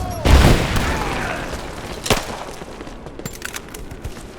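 Gunfire from Rise of the Tomb Raider bursts out with a heavy boom followed by a rattling volley and a second sharp shot, loud and close, fading into scattered cracks.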